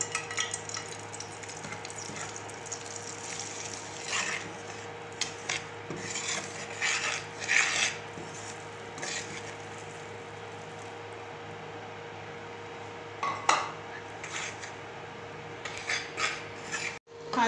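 Flour being roasted in desi ghee in a pan, with a steady spoon scraping and rasping against the pan bottom, soft and close, with a few louder scrapes and no talk.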